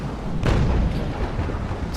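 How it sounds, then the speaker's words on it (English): A double-shot cannon broadside fires in the naval combat game Naval Action, with a loud booming burst about half a second in that trails into a rumbling roar. "So I have loaded doubles, and let's see if he's in my firing range for my doubles."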